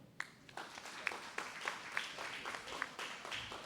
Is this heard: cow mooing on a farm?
no